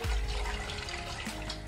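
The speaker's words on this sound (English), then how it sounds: "I'm pouring some more water into this." Water pours steadily into a basin while stainless steel cookware is cleaned, a continuous rushing splash close by that holds fairly even throughout, with no talking.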